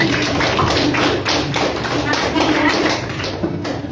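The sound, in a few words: class applauding a student's correct answer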